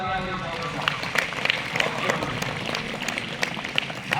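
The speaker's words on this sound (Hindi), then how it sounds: "जोरदार तालियां।" Students seated in a school hall clap loudly in a crowded burst of applause, with sharp uneven hand claps standing out over a background of murmuring voices and talk.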